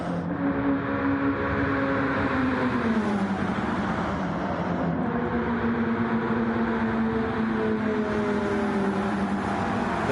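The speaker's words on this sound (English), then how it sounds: "it's the roar of 20 engines" About twenty race car engines roar together in a dense, continuous drone, pitches rising and falling as the pack runs close by, in the Gran Turismo 7 video game at Daytona International Speedway.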